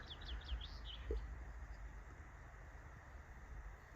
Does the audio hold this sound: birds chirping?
yes